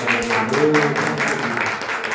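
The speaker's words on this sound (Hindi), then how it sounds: "ताली बजा के प्रभु के नाम पर" Church congregation clapping along in a steady rhythm during worship, moderately loud, with faint singing or voices underneath.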